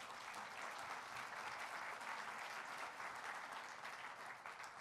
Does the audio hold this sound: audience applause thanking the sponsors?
yes